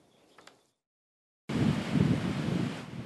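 Strong wind gusts from Hurricane Sandy roar on the coast at Cape May, New Jersey, starting as a faint rustle, then a sudden loud, sustained blast of wind noise.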